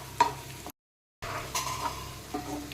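Prawns being stirred in a pan with turmeric and spices, giving a soft sizzle with scraping and clinks of the spoon, interrupted by a brief gap of silence.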